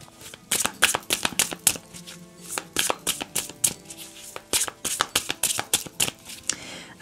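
Tarot cards being shuffled by hand before a card draw, a steady run of quick, close riffling snaps over several seconds with no talking.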